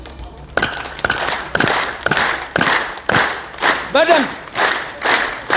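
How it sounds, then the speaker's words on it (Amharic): A crowd claps in unison in steady, rhythmic bursts about every half second, loud and close, with a speaker's voice briefly heard over it. "እንደኔ አጨብጭቡ ሁላችሁ"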